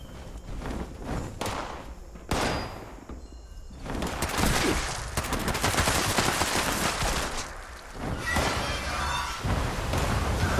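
Gunfire in the video game Fallout 76: a few sharp single shots, then sustained rapid fire and bursts that continue loud and close for several seconds, with no talking.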